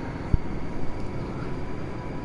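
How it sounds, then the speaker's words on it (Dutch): A helicopter approaches in Grand Theft Auto V on PlayStation 4, a low rumbling rotor drone swelling and fading over a couple of seconds, with a brief thump near the start. "er komt weer een helikopter daaraan"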